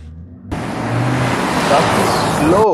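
A 2024 Jetour Dashing Chinese SUV gets underway: a broadband engine and road roar starts abruptly and holds steady and loud, with a voice briefly heard near the end.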